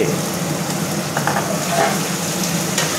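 Onion and garlic frying together in a pan for egg curry make a loud, even sizzle with soft stirring scrapes mixed in, close up and without talk.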